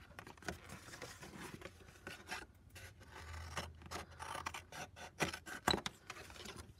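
Paper being cut for a book's front and back covers, a quiet, close run of soft, irregular rasping and rustling snips that continues for several seconds without speech.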